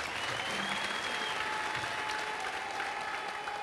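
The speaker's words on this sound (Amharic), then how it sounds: "ለጌታ ክብር አጨብጭቡልኝ።" Church congregation applauds at a worship service, sustained clapping from many hands heard at moderate distance, with a faint steady tone running beneath the crowd.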